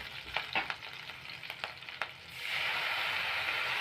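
Lemon rice seasoning with turmeric and salt sautéing in a pan, a few stirring scrapes over a soft sizzle that swells into a steady, louder frying hiss.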